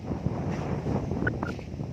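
Strong wind blusters steadily across an open farm with mango and banyan trees, a dense, rushing roar buffeting the microphone throughout with no pauses.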